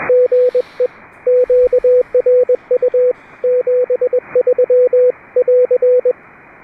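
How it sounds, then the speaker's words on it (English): Morse code CW picked up on shortwave amateur radio around 3729 kHz, a loud, steady sidetone keying out rapid dots and dashes over a constant band hiss. "Nice signal there on the CW, and great CW, by the way."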